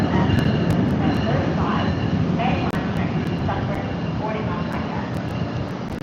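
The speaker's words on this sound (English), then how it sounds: "That train looks fairly busy." A busy passenger train rolls through Secaucus station in New Jersey with a loud, continuous rumble and clatter of rail cars, plus some metallic wheel squeal, while people talk nearby.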